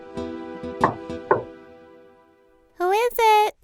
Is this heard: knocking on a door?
yes